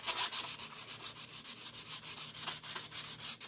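Sandpaper rubs back and forth across wood in quick, even strokes, a close, rasping rhythm of about five to six passes per second with no talk.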